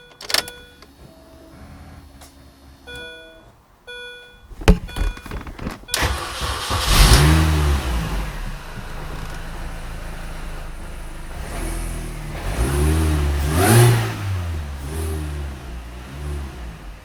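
A car with a slight dip in revs, thought to come from a small vacuum leak, sounds a few electronic chimes, then its engine starts with a loud crank and revs up and down several times, close and alone.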